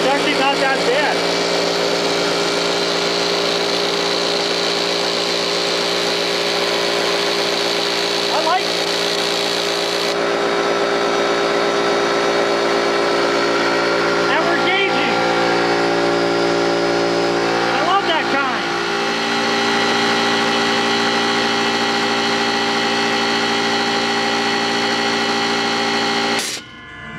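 A steady Coleman air compressor motor drone runs continuously with a constant hum and whine, close and loud, with a few faint knocks over it.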